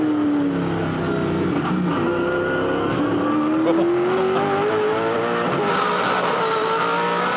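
V8 Supercars in a race at Eastern Creek Raceway, with a loud, continuous engine roar and a rising whine as cars pass close by, along with brief tyre squeal.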